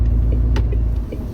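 A 2023 MAN TGX 18.520 Euro 6e truck with a TraXon gearbox drives on the road, its engine giving a steady, loud low rumble throughout with a brief higher whir partway through.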